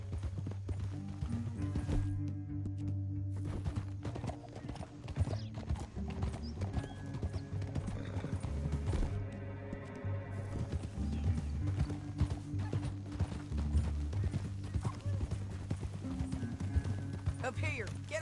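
Horse hooves galloping in Red Dead Redemption 2, a rapid continuous clip-clop under a musical score, with brief whinnies and voices talking over the ride.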